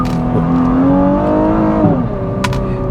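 A 2021 Nissan GT-R Premium with a six-speed gearbox and quad-tip exhaust revs loudly and close, its engine note climbing and then falling back steadily.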